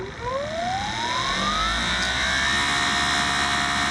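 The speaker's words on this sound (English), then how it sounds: "I'm gonna cut on this pressure washer and see what kind of initial reading we get" A gas pressure washer fitted with a 15-degree nozzle tip starts up and runs with a rising whine that settles into a steady, loud high-pitched drone over a low engine rumble.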